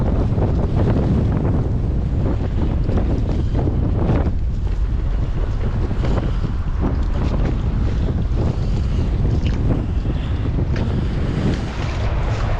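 Loud, constant wind buffets the microphone, with rushing water and the roar of a fishing boat moving over the sea, no voices.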